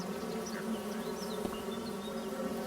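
Bees buzzing steadily in the farming game Farming Simulator 25, a continuous droning hum with faint darting tones above it, no talk.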